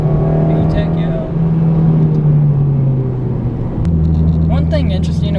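A 2007 Honda Civic Si engine accelerating out of a turn and rising into VTEC, a loud in-cabin drone that climbs in pitch, dips at a shift and climbs again, with someone talking over it.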